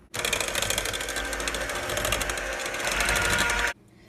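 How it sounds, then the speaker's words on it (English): An electric mixer beats cake batter for a Thanksgiving cake, a loud, steady close-up whirring that starts abruptly and cuts off sharply near the end. "next we're going to go ahead and beat this into submission for exactly 60 seconds"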